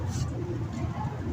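Pigeons kept by a longtime Rawalpindi–Islamabad fancier coo softly and steadily in a loft, a low continuous murmur with faint background noise and no talk.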